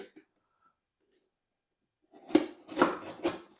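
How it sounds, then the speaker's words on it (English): A heavily taped box being torn open after a quiet pause, with a few sharp ripping and scraping bursts, close by. "You're just going to have to try to"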